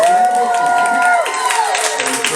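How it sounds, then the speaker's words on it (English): Audience at a drag competition round cheers and claps for the contestants, a dense crowd roar of applause under a host's amplified voice and music tones. "Can we get a massive cheer for all of our contestants"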